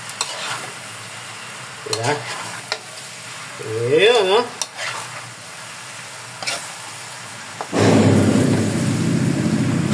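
Pork humba, Bisaya style, sizzles and fries in a pan while a utensil scrapes and stirs it in short bursts. The frying swells into a loud, steady sizzle near the end, and someone speaks briefly.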